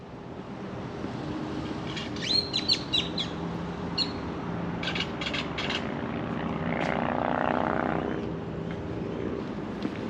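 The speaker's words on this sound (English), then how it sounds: "Got some interesting sounding birds up down here." Birds chirp and tweet in short bright bursts outdoors, scattered across the scene over a low droning hum that swells midway like a passing aircraft.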